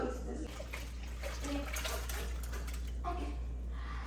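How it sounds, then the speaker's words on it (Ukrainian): Homemade broth being poured through a sieve while making milk sausage, a steady watery splashing and trickle over a low hum, with someone talking over it. "І цей бульйон, що получився, проціджуємо."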